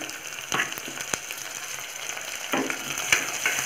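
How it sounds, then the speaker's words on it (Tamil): Onion and tomato sauté in a pan for a potato kurma, producing a continuous close sizzle broken by several sharp clicks and scrapes of stirring. "தக்காளி போட்டு கொஞ்சம் வதக்கணும்."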